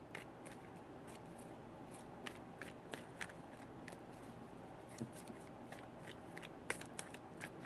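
Tarot cards are shuffled in a quiet room, giving soft repeated riffling and slapping snaps at an irregular pace, faint and close with no voices.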